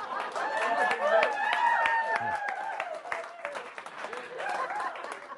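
An audience claps at a talk, with bursts of applause mixed under a voice speaking over the noise for most of the clip.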